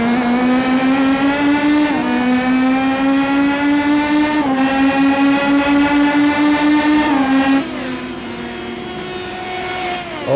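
Indy Pro 2000 race car engine in iRacing at Oran Park, a loud onboard whine with strong harmonics that climbs through the revs, drops at several gear shifts and eases off near the end.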